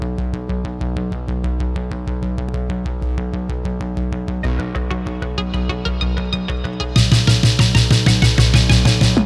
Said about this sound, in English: This is the world's fastest 2-liter engine in a hatchback, and boy, what an engine it is.